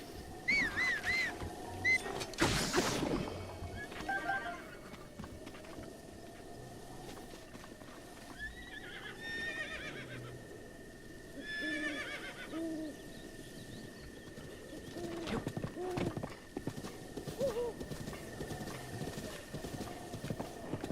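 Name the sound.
horse galloping and neighing in Zelda Breath of the Wild video game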